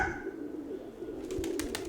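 Pigeons in a loft giving soft, low cooing over a quiet background, with a few brief chirpy sounds near the end.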